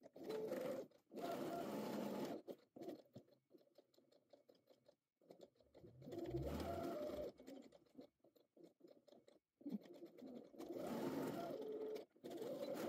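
A sewing machine stitches the seam of a pocket along the raw edges, running in several distinct bursts of rapid, close mechanical whirring separated by quiet pauses.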